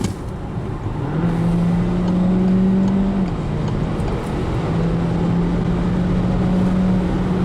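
A Peugeot 3008 1.6 Hybrid4 plug-in hybrid SUV (2021, 300 hp) rises in a steady electric-tinged whine as it accelerates from 100 toward 140 km/h, with a shift partway through and road roar underneath.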